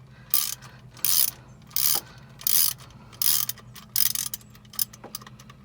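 Ratchet wrench with a 10mm socket backing out screws: seven short crisp clicking bursts in a steady rhythm, close and fairly quiet, with no talk.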